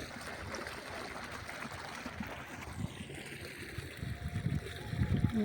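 Irrigation water runs through a channel in a sandy cumin field, a soft continuous trickle and gurgle that swells louder toward the end, with faint background sounds.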